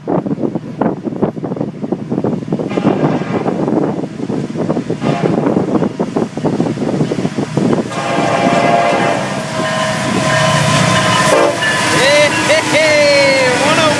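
Florida East Coast freight train with locomotive 101 leading rounds a bend and passes close by, loud rumbling wheels and clattering cars building into a steady roar, with horn-like tonal blasts later and brief voices over it.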